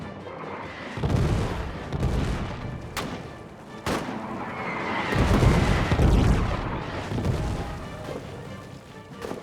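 Artillery in Invincible crashes down on a machine gun troop. Heavy booming impacts and sharp blasts land at irregular intervals over a rumbling battlefield, with a few crisp gunshot cracks between them.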